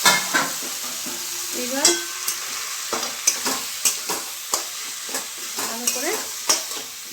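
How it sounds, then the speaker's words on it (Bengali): Cabbage frying in a pan while a spatula stirs and scrapes it in a regular rhythm of sharp knocks over a soft sizzle, close up, with a few brief spoken words. "বাঁধাকপিটা দিয়ে দিলাম"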